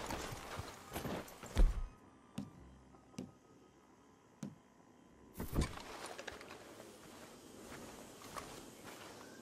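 Horses' hooves clip-clop in scattered, uneven steps near a house, sharp thuds standing out over quiet rustling, with a short busier burst of steps partway through.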